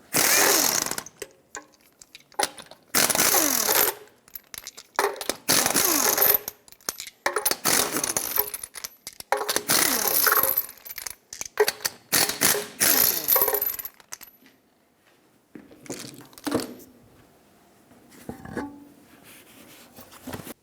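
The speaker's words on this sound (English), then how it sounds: "Use a 21mm socket, remove all 6 of your lug nuts, and then take the wheel off." A 21mm socket removes six lug nuts from a 1996–2002 Toyota 4Runner wheel, heard as loud bursts of rapid mechanical rattling between short pauses, close up, fading to quieter scattered clunks near the end, with no talking.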